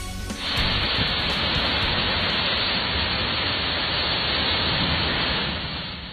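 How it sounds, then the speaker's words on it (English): Storm wind screams and heavy rain pounds down in Charlotte County's Deep Creek area during a tornado-spawning storm, a loud, steady broadband roar filling the whole stretch with no pauses. "You can hear the scream of that wind and rain as it pounded the Deep Creek area of Charlotte County."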